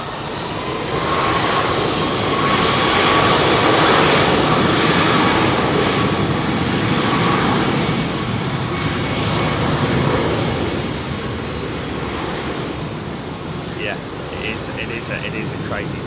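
A Boeing 757 departs runway 27R at London Heathrow, its engines a loud, sustained broadband roar close by that holds steady for most of the run, then eases slightly toward the end.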